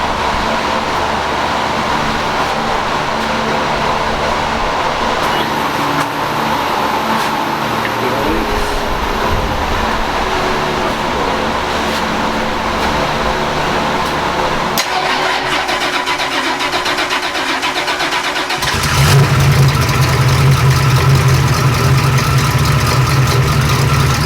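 A car powered by a turbocharged small-block Oldsmobile engine idles and revs loudly up close, then cranks and fires back into a rough, pulsing idle near the end.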